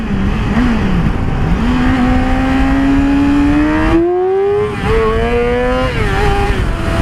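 A motorcycle engine revs hard and climbs steadily in pitch while the bike lifts into a wheelie. It dips briefly and then winds up again, loud and close, with a continuous throaty drone and no talking.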